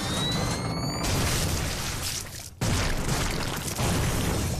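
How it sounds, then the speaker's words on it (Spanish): A cartoon explosion sinks a ship in a loud, sustained roaring blast that cuts out briefly and then bursts back in a second wave of dense, rumbling noise. "¡Quiero explosión!"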